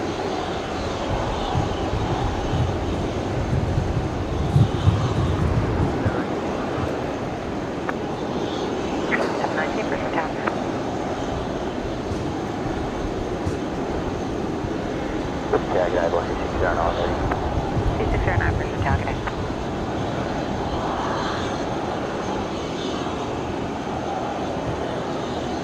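A Qantas A330 airliner makes a full-length takeoff from Brisbane Airport, its engines giving a sustained, rumbling roar throughout, with a voice talking over it intermittently.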